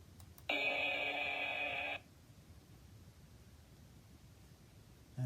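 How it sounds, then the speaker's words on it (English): A struck bell rings in a steady, bright tone for about a second and a half, loud and alone, then cuts off into quiet. "click in the middle to hear the bell sound."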